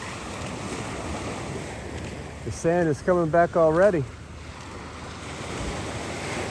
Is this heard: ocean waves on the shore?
yes